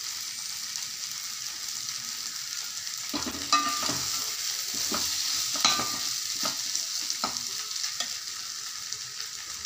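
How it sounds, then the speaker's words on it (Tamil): Green idli mixture frying in a pan hisses quietly at first, then a spatula starts stirring, adding a run of clacks and scrapes over the steady sizzle; nobody speaks. "ஒரு 3 நிமிஷம் நல்லா போட்டு இட்லியை கலக்கி விட்டு நல்லா கலவையில் கலங்கிருச்சு"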